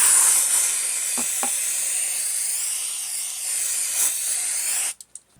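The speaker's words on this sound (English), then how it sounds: "So before I fit it, I'm just going to give it a quick rinse." A new Briggs and Stratton engine crankshaft gets a quick spray rinse: a continuous loud hissing spray for about five seconds with a couple of brief clanks, then it cuts off into short bursts.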